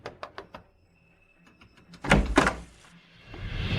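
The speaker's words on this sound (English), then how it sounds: "open the door" A door being opened, with a few light knocks or clicks at first, then a louder thunk and rattle of the door moving, followed by low rumbling.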